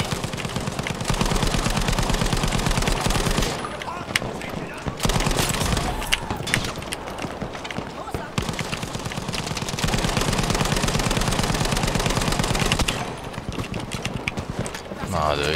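Dense, continuous automatic gunfire and explosions from the Battlefield V shooter game on PC, a loud, relentless clatter of rapid shots with brief dips, a voice talking over the battle.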